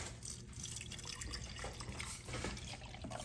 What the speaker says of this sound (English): Now we're just gonna pour it in.